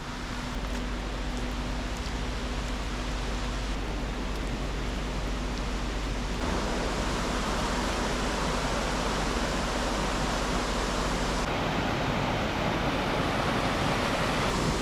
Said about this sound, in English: There's a whole bunch of water flowing here.